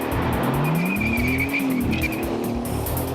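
A 2013 Bentley Continental GT Speed with all-wheel drive launches at full throttle, its engine note rising steadily and loud with a faint tire squeal, no talk over it.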